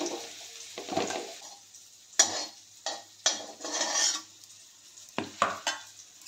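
Jackfruit pieces fry in hot oil in a pan, giving a steady soft sizzle broken by several sharp scrapes and stirring clacks of a utensil against the pan, close and fairly loud, with no talking.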